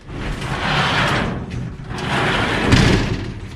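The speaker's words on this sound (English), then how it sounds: "So opening the big garage door" A big home garage door opening in two long, loud rumbling rolls with a brief pause between them and a heavier thump near the end, with no talk.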